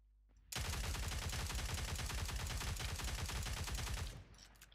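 Rapid automatic gunfire in the Cyber Hunter video game, a loud continuous burst of closely spaced shots lasting several seconds before stopping abruptly.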